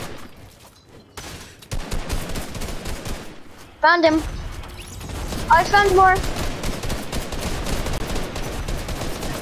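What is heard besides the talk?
gunshots in a video game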